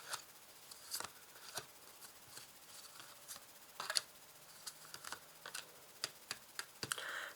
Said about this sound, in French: On va déposer les cartes ici.